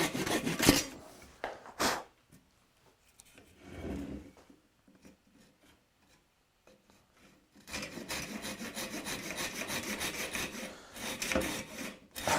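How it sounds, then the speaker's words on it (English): A chisel trimming a wooden stool seat: scattered scraping strokes at first, then a long steady stretch of close, rasping wood-on-steel paring with no talk. "I'll come in with a chisel and actually work my way down"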